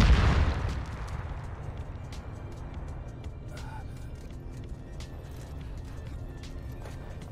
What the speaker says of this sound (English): I threw a nade in the ring.